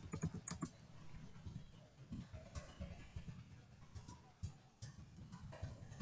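Soft, fairly quiet keystrokes on a computer keyboard as code is typed for a beginner Edublocks assignment, an uneven patter of clicks with a few louder taps.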